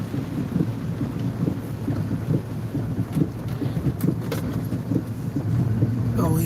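Steady rain falls outside around a parked vehicle, a constant wash of patter and hiss with low rumble underneath, continuous and fairly loud throughout.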